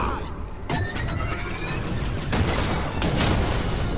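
Blaster fire in Star Wars Jedi Fallen Order, sharp zapping shots and bursts amid loud combat noise, several volleys over a few seconds, close and intense.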